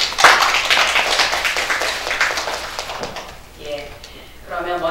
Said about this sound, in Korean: 모두 그걸 위해서 박수 한번 치시죠